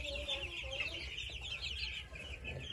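Week-old chicks in a bucket give soft, high clucking peeps repeated throughout, fairly close over a low background rumble.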